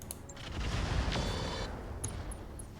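Weapons fire at a Tarantula mech in the Roguetech video game, a rumbling fusillade of blasts and booms swelling in the middle and fading, with a few sharp high pings near the end.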